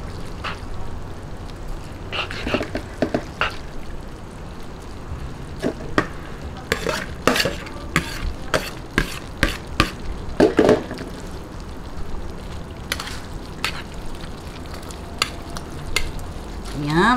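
Bihon rice noodles tossed and stirred in a pan for pancit, with scraping clatters and light sizzling, busier in the middle with a few sharp utensil knocks.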